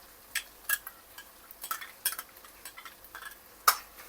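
Coconut and poppy seed paste fries in a pan while a utensil stirs it, giving quiet scraping and clinking taps over a faint sizzle, close and intermittent.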